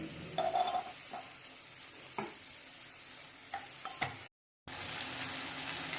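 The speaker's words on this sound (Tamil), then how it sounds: "இந்த பூண்டை இதில் போட்டு வதக்க வேண்டியது தான்" Crushed garlic sautés in a hot pan with a steady, close sizzle, punctuated by a few scraping stirs; the frying noise cuts out abruptly for a moment near the end, then resumes.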